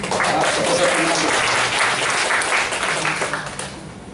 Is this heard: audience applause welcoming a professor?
yes